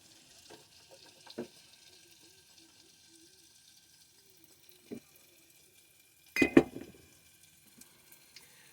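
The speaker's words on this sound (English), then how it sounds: "We're going to go ahead and saute those up real nice." Shallots and garlic sauté in butter in a pan with a faint, steady sizzle, broken by a few utensil clinks and a louder clatter partway through.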